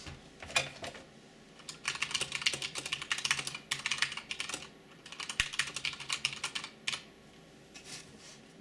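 Typing on an Akko Ocean Star SP 84 mechanical keyboard, with bursts of fast, clacky keystrokes and short pauses between them, close and moderately loud with no talking.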